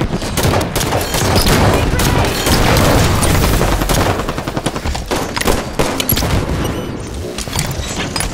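Rocket launcher fire and explosions in the Halo 5 arena slayer game, loud repeated blasts and rapid gunfire packed together, the barrage tapering into scattered shots toward the end.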